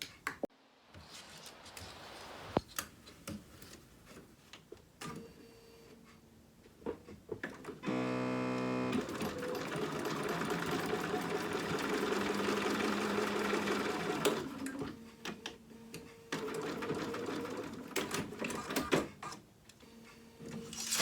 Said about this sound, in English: I'm just going to take a very short 1/8 of an inch tack down on both of these to secure them onto the bodice